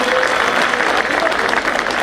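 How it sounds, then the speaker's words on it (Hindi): Loud, dense crowd applause rolls without a break through two seconds at an outdoor gathering. "जोरदार ताली एक बार"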